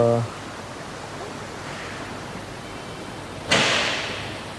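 Kumaradhara river running full, a steady broadband rush of water heard from a moving vehicle, with a brief tone at the start and a sudden louder burst of noise near the end.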